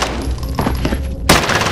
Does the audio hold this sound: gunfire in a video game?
yes